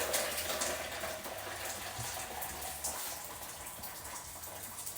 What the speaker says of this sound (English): we need to take 2 litres of boiling water